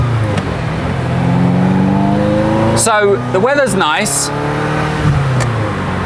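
A Ferrari 348 Spider with its roof down and a manual gearbox drives along Swiss country roads, its engine loud and close and rising and falling through the gears, while a person talks over the noise.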